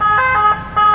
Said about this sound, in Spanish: que tenemos a una ambulancia